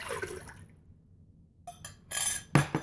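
Broth is poured into a pressure cooker holding a whole six-pound chicken, giving brief splashing liquid sounds after a near-silent pause, ending in a few louder sloshes and clinks close by.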